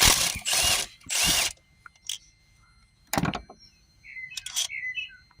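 A tool loosening an 8mm bolt on a Citroen Berlingo 1.6 HDi comes in a few loud whirring bursts with some shorter clicks in between, close up with no talking.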